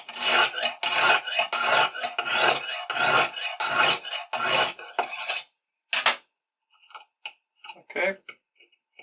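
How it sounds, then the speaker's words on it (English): A knife blade is drawn across a Lansky sharpening system stone in a steady run of about eight loud rasping strokes, followed by lighter scattered scrapes and taps. "just for sharpening a normal blade, you want to be going sweeping across at the same time."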